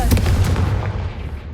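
A Confringo fire spell goes off in the video game Hogwarts Legacy: a loud, booming blast at the start that rolls into a rumbling, crackling decay.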